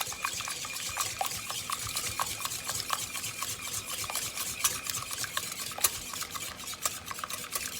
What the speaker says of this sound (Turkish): şimdi iyice karıştırıyoruz